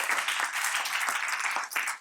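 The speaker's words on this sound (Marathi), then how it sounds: "तर आपण त्या सगळ्यांसाठी एकदा जोरात टाळ्या वाजवूया." An audience at a talk on technology applauds, a steady burst of dense clapping lasting about two seconds.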